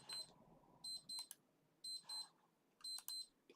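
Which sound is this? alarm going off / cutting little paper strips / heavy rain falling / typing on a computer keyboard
alarm going off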